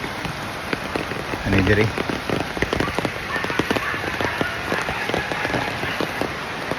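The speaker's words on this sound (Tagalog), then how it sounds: "Pog ni ulan na pod." Rain patters on a calamansi farm, with steady dense drops striking nearby surfaces throughout and a brief spoken question partway through.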